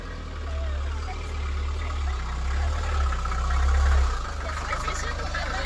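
An Italian 2.5-litre naturally aspirated Sofim engine runs nearby with a steady low rumble that swells slightly toward the middle; a voice talks over it.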